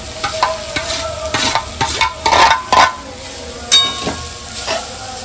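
Carrot halwa stirred and frying in ghee in a pan, with repeated scraping strokes over a soft steady sizzle, close and fairly loud, bursts of stirring coming every second or so.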